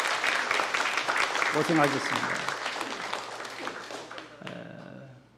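Church congregation applauding during a Sunday service, a dense round of clapping that fades toward the end, with someone speaking over it.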